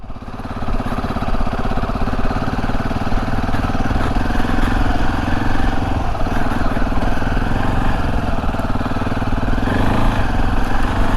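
KTM 690 Enduro R motorcycle engine running steadily while ridden off-road, a loud, continuous close-up drone with rattling clatter throughout and no break.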